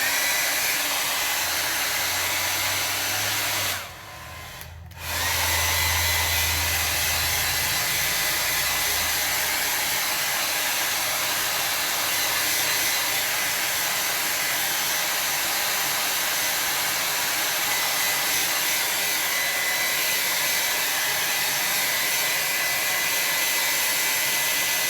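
A hair dryer blows steadily over a wet watercolor landscape painting, a constant close airy roar that briefly dips and shifts as it is moved, then continues unbroken to the end.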